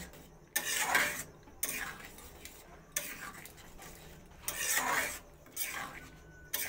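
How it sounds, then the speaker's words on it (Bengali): A spoon scrapes and stirs spices into ghugni in a cooking pan, making repeated rhythmic scraping strokes in several close bursts with brief pauses between them. "মশলাটা দিয়ে আবারও মিশিয়ে নেব।"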